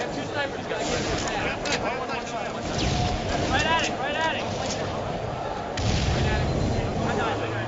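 Rocket launcher blasts and explosions go off during a Halo 3 tournament match, several booming shots scattered through dense game noise while a commentator talks over them.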